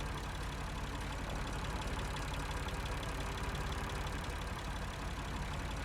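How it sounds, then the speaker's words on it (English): A generator runs in the point-and-click adventure game Lost Horizon, a steady, throbbing mechanical drone with a fast regular pulse, continuous and fairly quiet, with no speech over it. "Must be the generator."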